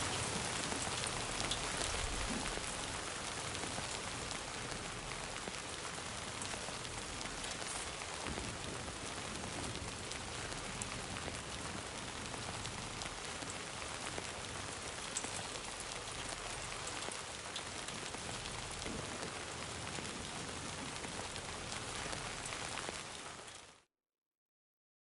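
Steady, dense rain falls in the video game Death Stranding 2, a constant broadband hiss that holds for about 24 seconds with no talk, then cuts off abruptly.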